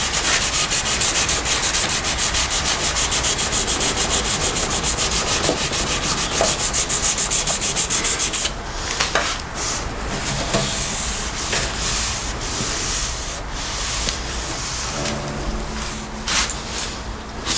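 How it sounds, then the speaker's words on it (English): Hand sanding an old guitar's finish with worn 400-grit sandpaper: steady, close scratchy back-and-forth rubbing that runs unbroken for several seconds, then turns into shorter, more irregular strokes. "So the sandpaper I'm using is 400. And it's a used 400"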